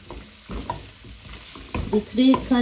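Mixed vegetables in three colours being stir-fried in a pan, with steady sizzling and scraping stirs that grow louder toward the end, including some brief higher squeaks.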